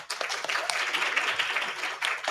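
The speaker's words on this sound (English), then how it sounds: "Give her a round of applause." Live audience at a conference celebration giving a moderator a round of applause, brisk and fairly close clapping from a modest crowd over a short stretch.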